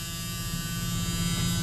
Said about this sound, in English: 14 months later, guys, and it still sounds like that. Do you hear that?